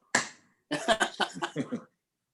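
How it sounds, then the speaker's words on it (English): Slow hand clapping on a podcast: one clap, a pause, then a run of about six claps that get slightly quicker, sharp and close with nobody talking. "Deserves the slow clap"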